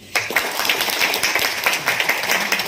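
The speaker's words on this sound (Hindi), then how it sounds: "वेरी गुड, तालियां हो जाए।" A short burst of audience applause at a motivational talk, many hands clapping in a quick, dense patter that holds steady for a couple of seconds.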